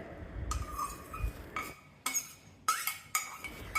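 Cooked rice is mixed in a metal vessel with a spoon: several separate scraping strokes and bright clinks, close and clear, with no talking.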